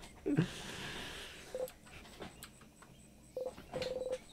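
A dog barks a few times upstairs, muffled and faint against a quiet room, with short electronic beeps in between.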